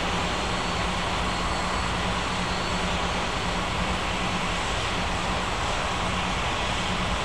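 Continuous, even roar of an aircraft engine as a plane taxis to the gates at an airport, a broad steady rush with a low hum underneath and no talk.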